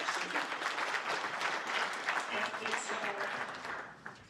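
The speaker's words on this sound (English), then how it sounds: "Big clap." An audience at an ice climbing festival event claps, a dense steady patter of many hands throughout that fades near the end, with speech underneath.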